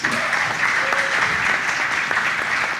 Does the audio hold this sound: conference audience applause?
yes